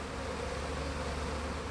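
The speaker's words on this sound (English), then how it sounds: "Got thousands of bees inside" Thousands of honey bees in a package hive give off a steady, dense, close buzzing drone with no pauses.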